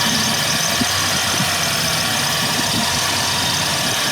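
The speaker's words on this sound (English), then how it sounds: "as long as I'm holding the throttle a little bit, it keeps running" The engine of a 1984 Ford LTD Crown Victoria under restoration runs steadily and loudly close by, with the throttle held slightly open to keep it going, with no talk over it.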